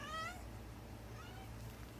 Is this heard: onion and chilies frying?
no